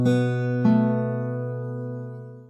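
A short guitar phrase from a song from Cyberpunk 2077, a few plucked notes ringing together, with a second pluck at about the half-second mark, then sustaining and slowly fading, played alone with no talking.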